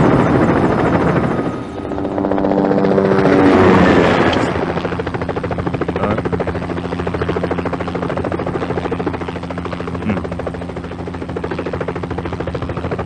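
A helicopter in a film scene, readied for departure, runs loudly and steadily throughout, its rotor chop pulsing under a broad engine whine that swells in the first few seconds and then settles into a constant drone.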